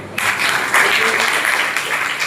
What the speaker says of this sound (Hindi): एक एक खड़खड़ाहट तालियां सर के लिए